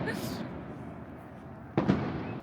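A firework bursts near a football stadium in Buenos Aires on match day, one sharp crack with a short rumbling tail heard at a distance over steady outdoor background noise.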